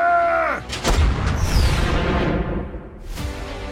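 Heavy artillery and gunfire from a war film trailer, a deep booming blast followed by a roaring, rolling rumble and a second burst near the end, loud and close, with a brief shouted command at the very start.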